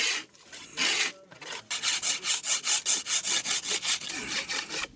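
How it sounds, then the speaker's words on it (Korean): Poplar wood is being worked with a hand plane in a village in Hunza, close and loud. A few long scraping strokes are followed by a quick, regular run of rasping passes. "한편 아침부터 열심히 대패질을 하고 있는"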